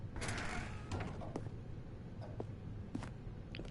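A door opens in the video game The Stanley Parable, heard as a faint mechanical creak followed by scattered clicks and knocks of the mechanism over quiet room tone, ending with a sharper thud.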